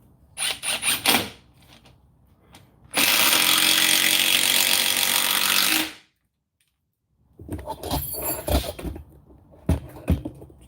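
A Metabo cordless power tool runs in a single steady, loud burst of about three seconds, then cuts off, with softer handling clatter before and after.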